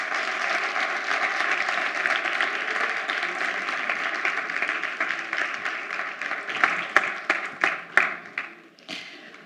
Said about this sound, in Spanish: Pues os iba a pedir un fuerte aplauso, pero ya veo que salió así muy espontáneo.